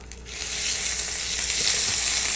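Asafoetida powder and fresh ginger hit hot oil in a pan, and a sudden loud sizzle swells up and holds as a dense, steady hiss.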